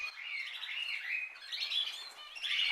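High, thin chirping calls from Eurasian jay chicks, repeated in overlapping bursts, fairly close but soft, with no other sounds.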